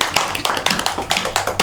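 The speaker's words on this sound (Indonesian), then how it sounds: "Tepuk tangan dulu dong Pak Yosa." Small group clapping in a classroom microteaching session, a few uneven bursts of hand claps, close and fairly loud, with no talk over them.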